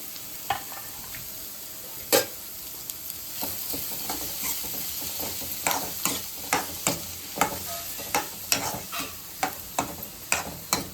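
Onion and tomato stirred and fried in butter for pav bhaji, a steady sizzle broken by repeated sharp spatula scrapes and taps against the pan, growing regular toward the end, with no voices.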